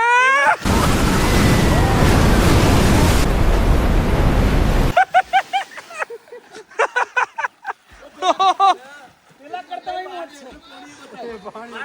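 A male buffalo jumps into water with a heavy splash and rushing water roar for a few seconds, then excited voices chatter over the settling water.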